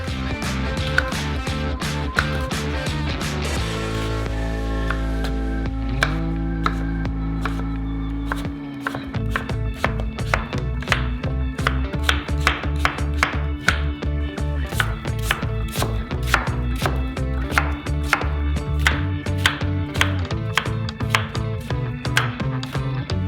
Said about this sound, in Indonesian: Potong buah menjadi kubus.